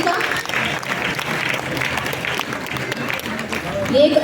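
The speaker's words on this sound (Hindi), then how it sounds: "जोरदार तालियों से स्वागत कीजिए" An audience at a women's honour ceremony in Shimla applauds to welcome an honoree, a dense and steady wash of many hands clapping throughout, moderately loud and swelling slightly toward the end.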